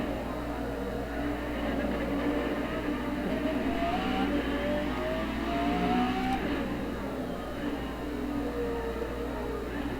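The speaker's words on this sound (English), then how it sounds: "This car is not really driving that well." A car in a driving video game runs with a steady engine drone and a low constant hum, while pitch sweeps rise midway as it accelerates before settling back.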